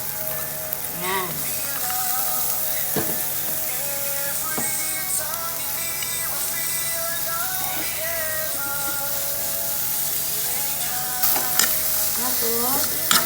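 Onions frying in a hot pan for tuna sisig give off a steady, close, even sizzle for the whole stretch, with occasional scraping stirs and small clicks against the pan.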